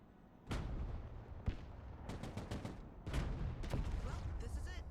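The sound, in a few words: gunfire from a vehicle gunner in the video game Broken Arrow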